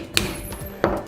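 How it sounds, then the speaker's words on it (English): Hammer whacks the top of pliers to cut a nail, two sharp, close metallic strikes spaced about two-thirds of a second apart. "then whack the top of it with a hammer"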